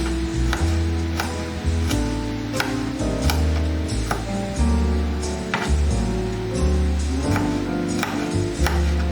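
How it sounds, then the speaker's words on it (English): A knife chops garlic on a board for a callaloo and salt fish dish, giving a steady run of crisp, evenly spaced cuts about twice a second over a constant low background hum. "Cutting up the garlic."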